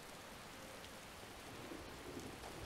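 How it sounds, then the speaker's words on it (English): Steady rain falls in the Skyrim game world, a dense, even hiss of drops filling the air throughout with faint low rumbles beneath, no voices present. "I'm wondering how many raindrops have hit us since we started talking."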